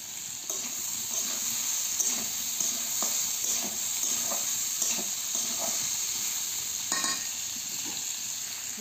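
Village-style rohu fish curry with a spice mix being stirred in a hot pan: a continuous close sizzle and hiss with soft scraping stir strokes scattered throughout.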